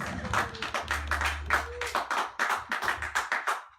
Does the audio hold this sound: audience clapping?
yes